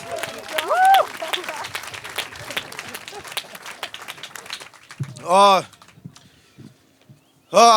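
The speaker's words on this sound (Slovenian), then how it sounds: "En aplavz, noter prihaja Gašper Bergant." Scattered clapping from a live comedy show audience runs under a loud announcer's voice, with bursts of cheering or whooping breaking through.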